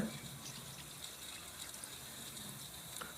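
A little water poured into liver frying in a pan for a Tamil-style liver fry, a steady gushing hiss and sizzle running evenly throughout without speech.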